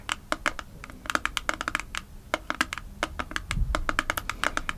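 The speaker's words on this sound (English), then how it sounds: "So we're gonna tap on this to finish up this video." Fingertips tapping on a plastic bottle of sunbed lotion, quick irregular clicky taps in bursts and runs, close and crisp with no talking.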